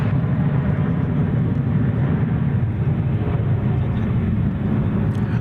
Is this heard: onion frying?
no